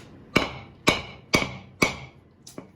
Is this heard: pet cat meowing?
no